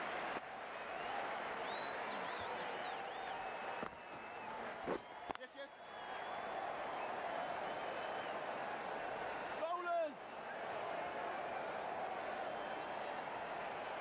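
Crowd applause at an amateur cricket match between Brooklyn Beats and DC Eagles rises under ongoing talk, with a few sharp knocks and a brief whistle-like tone along the way.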